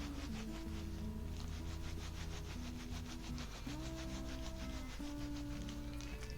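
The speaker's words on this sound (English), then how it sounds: "So here I'm gently rubbing that backwards and forwards." Wool being gently rubbed backwards and forwards while felting a ball gives a steady, close, rhythmic soft scrubbing that runs throughout, with soft tonal music playing underneath.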